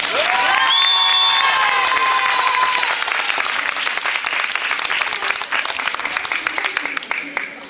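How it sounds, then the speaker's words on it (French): A studio audience applauds and cheers for actress Éléonore Sarrazin at a Plus belle la vie Christmas special taping, a loud sustained roar of many clapping hands with a sustained whistle-like tone early on, thinning slightly toward the end. "Je vous demande d'applaudir, à vous en faire rougir les mains, Éléonore Sarrazin."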